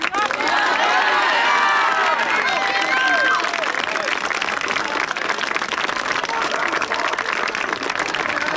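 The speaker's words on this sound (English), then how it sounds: "please give them a round of applause" Graduation audience at a business school ceremony breaks into loud, sustained applause mixed with cheering and shouted voices, a dense crowd roar that fills the whole stretch without letting up.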